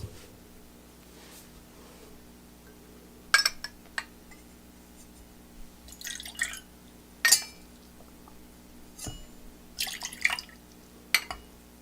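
Pineapple juice measured out for a cocktail gives scattered, close drips and small splashes of liquid with light glass clinks between them, over a quiet room hum and no talk.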